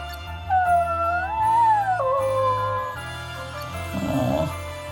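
A small pup in Bravely Default II gives a rising, wavering howl-like whimper, then a shorter yelping cry with a faint jingle, close and clear with no voices.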